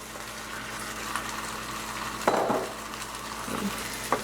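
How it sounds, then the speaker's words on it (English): Four Roma tomatoes hit a hot pan for baingan bharta and sizzle softly, with a steady frying hiss, a few clinks of utensil against pan, and no voice over the cooking. "So I'm adding 4 Roma tomatoes"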